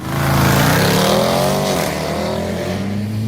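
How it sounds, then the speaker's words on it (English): A Jeep SRT with the 392 V8 and stock exhaust rumbles loud and close, its engine note sweeping up and settling back into a deep steady drone, with no talking. "It's a 392. It does have an eco mode, which, and again, that's stock exhaust. It's not even aftermarket."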